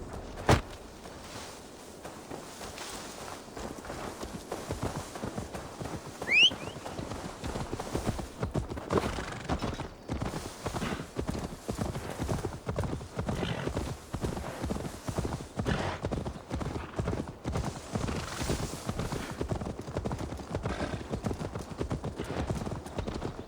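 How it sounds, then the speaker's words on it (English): Steady clip-clop of horse hooves trotting in an even rhythm for a long stretch in Assassin's Creed Valhalla, with brief faint sounds mixed in. "Now to deliver Magni his horse"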